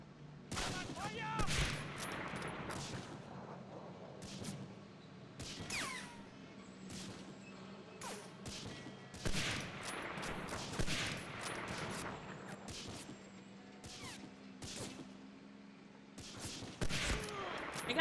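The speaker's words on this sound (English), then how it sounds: "Yes, keep shooting at me so I know where you are." Gunfire from a D-Day mission in a war video game: repeated sharp shots and bursts scattered throughout, loud and close, mixed with game ambience and occasional talk.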